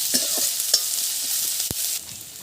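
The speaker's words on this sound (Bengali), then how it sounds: "পেঁয়াজ ভাজা" Onions sizzle steadily in hot oil, with a few scraping stirs and a sharp clack from the pan partway through.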